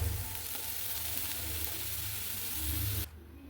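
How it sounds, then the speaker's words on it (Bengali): Potato pieces fry in mustard oil in a pan, giving a steady close sizzling hiss that carries on evenly and then drops away abruptly near the end. "আলুটা একটু লাল লাল করে ভেজে নিলাম"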